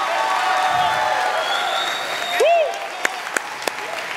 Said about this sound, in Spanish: Le pido un fuerte aplauso en el bajo al señor Nano de los Santos.